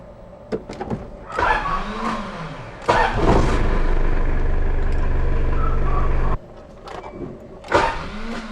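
A Rocsta R2 starter motor, freshly reinstalled, cranks the engine in two bursts: a short whine, then a longer sustained grinding crank of about three seconds, followed by a quieter click and a brief restart attempt, heard close with no talk.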